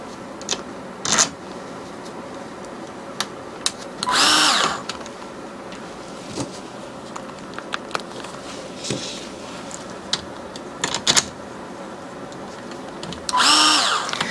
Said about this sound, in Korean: 육각 비트를 사용해서 고정을 할 거고요.